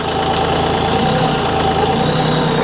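A tractor engine runs steadily with a Stinger tree spade attachment fitted, a loud, continuous mid-to-low idling drone close by with no talk over it.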